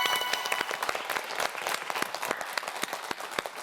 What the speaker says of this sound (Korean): 오늘의 킹왕짱 한준식 학생이 됐습니다. 박수 보내주세요